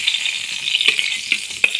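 Tomatoes sizzle in a hot pan for a Kerala-style mackerel (ayala) fish curry, a steady bright crackle with a few sharper pops and stirring scrapes, close and alone with no talking.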